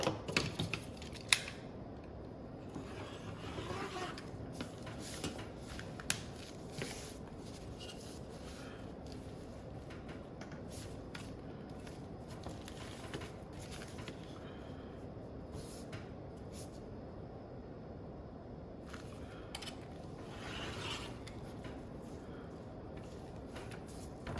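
Scissors snip through material, cutting 3/4-inch-wide strips for the inside of an astronaut suit hood, giving faint, scattered crisp clicks and rustles against a quiet room.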